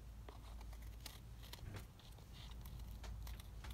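Scissors snip and trim paper ephemera up close, several short crisp cuts over quiet room tone.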